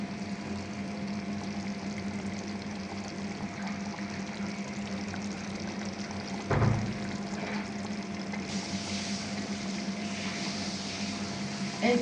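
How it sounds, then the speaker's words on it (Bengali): Aor fish fries in a pan with taro corms, giving a steady hiss of sizzling oil for twelve seconds, with one brief clatter midway. "এখন মাছগুলো দিয়ে দিলাম। ভালো মতো কষিয়ে নিয়ে তারপরে ঝোল দিয়ে দিব।"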